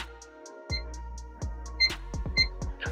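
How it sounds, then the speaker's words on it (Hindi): A multimeter in buzzer continuity mode beeps while probing a circuit line on a Poco M6 Pro 5G phone board, giving short repeated beeps with clicks from the probes, close and clear with no talk. "सबसे पहले मैं बजर मोड में ये चेक करूँगा कि लाइन उसका ब्रेक है या नहीं है"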